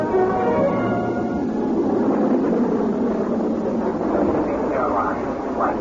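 Airport terminal ambience in a radio drama: a continuous low roar of aircraft engines with a distant rising whine near the end, under a broad murmur that suggests crowd chatter.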